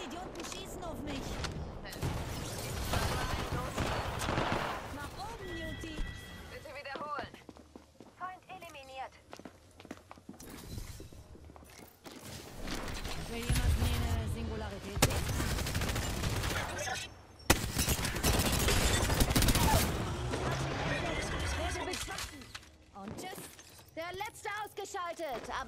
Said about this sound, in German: Hört mal her, ich werde beschossen.